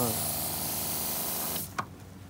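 A crop sprayer puts down liquid over a corn field with a loud, steady hissing rush that cuts off abruptly near the end, leaving faint outdoor noise and a brief knock.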